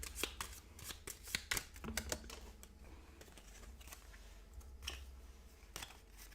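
Playing cards for the Sentinels of the Multiverse card game are shuffled and riffled in quick crisp bursts early on, then settle into softer handling sounds at close range, with occasional sharper flicks.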